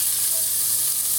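Onion, carrot and celery mirepoix hitting a hot pan for cassoulet, a dense, loud, steady hiss of sizzling heard up close, brief and unbroken.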